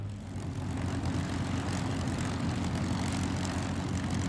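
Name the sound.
P-51 Mustang formation making a high-speed pass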